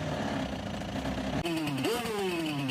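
A two-stroke jet ski engine runs with a buzzy, rattling idle, then its pitch climbs and dips briefly with a short rev before settling into a steady drone; close and continuous.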